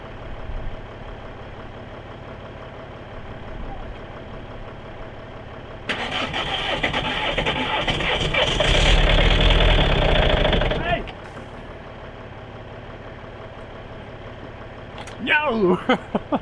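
An old, high-mileage VW Golf diesel with about 862,000 km on it, running off a boat battery, cranks and fires up: a loud, rough rumbling burst of about five seconds rises out of a steady background hum, then drops away.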